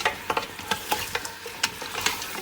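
Mutton paya being bhuna-fried in a pot, a soft sizzle under a quick run of spoon scrapes and taps against the metal, close and fairly quiet, with no voices.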